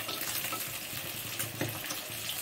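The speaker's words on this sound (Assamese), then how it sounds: "তো এতিয়া মাছটো ভজা হৈ গৈছে ভাজি আছোঁ" Fish frying in a pan at home, a steady dense sizzle with crackling bursts, close and continuous throughout with no talk.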